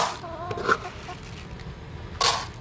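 Hens cluck briefly in a quiet setting, a few soft calls followed by a sharp rustle near the end.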